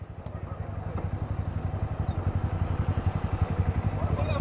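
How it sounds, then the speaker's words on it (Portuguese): A motorcycle rides by close, its engine putting out a rapid pulsing, buzzy low throb that grows steadily louder across the stretch. "Motociclista sem plaquinha."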